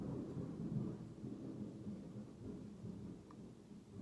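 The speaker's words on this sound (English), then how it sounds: "It is sunny outside and the loudest thunder just cracked." Thunder rolling on a sunny day, a low sustained rumble that stays steady and fairly loud throughout, with no voices.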